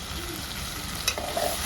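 Tomato and masala for fish curry sizzle in a pan over a low flame, a steady soft frying hiss with a few light stirring clinks near the end.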